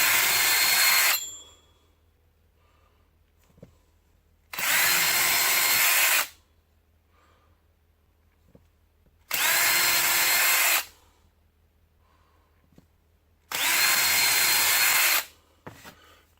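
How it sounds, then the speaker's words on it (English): A power drill drilling a hole in wood whirs in four loud bursts of about a second or two each, separated by quiet pauses, close by. "I like to get me a smaller bit, go ahead and line it up, and drill a hole."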